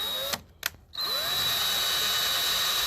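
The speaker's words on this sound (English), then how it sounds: "We're going to drill a pilot hole." A power drill drilling a pilot hole whirs steadily at close range, briefly stopping and restarting twice early on before running continuously with a high whine.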